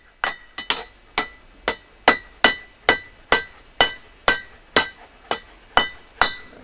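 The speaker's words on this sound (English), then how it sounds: "And then you got your anvil where you can work it." Blacksmith's hammer striking hot metal on an anvil in a steady series of about fourteen sharp, ringing blows with brief metallic decay, close and loud, with no talking.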